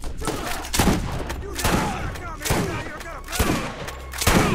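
Rapid bursts of video game gunfire crack out in repeated volleys, loud and close, with brief gaps between bursts and some background game noise.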